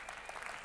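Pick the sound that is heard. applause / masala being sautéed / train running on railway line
applause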